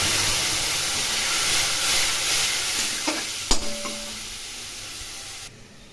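Curry in a pan hisses and sizzles loudly after a splash of water is added, with a few clinks of a utensil before the sizzle settles lower.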